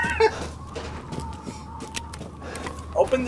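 Chickens in the Resident Evil Village video game, several short clucks and squawks at the start and again near the end over a quiet game background hum.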